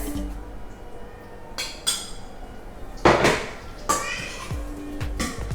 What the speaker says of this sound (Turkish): Şimdi tüm malzemelerimi güzelce karıştırıyorum.